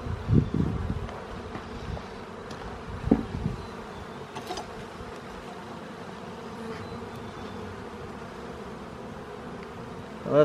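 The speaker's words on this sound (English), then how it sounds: "Oh wow, lots of bees on there." Honey bees swarm over a hive frame during a fifth-week inspection of a new colony, a steady close buzzing that fills the whole stretch, with a few handling knocks near the start.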